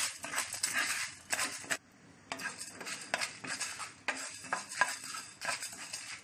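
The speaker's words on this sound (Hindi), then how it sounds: "इसे हम ड्राई रोस्ट करके लेते हैं।" Chana dal, fenugreek seeds and four red chilies dry roasting in a pan for South Indian methi sambar, with a spoon scraping and stirring in repeated bursts and brief pauses.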